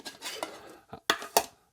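Metal pots and pans clank and scrape as camping cookware is handled, with several sharp, close knocks and rattles near the end.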